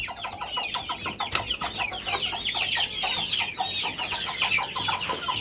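Chickens and bantam turkeys cluck and chatter steadily while being fed purslane, many overlapping short calls from a flock close by, fairly soft and continuous.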